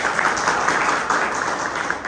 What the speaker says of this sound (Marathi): वा वा, टाळ्या होऊ दे रे पोरांना.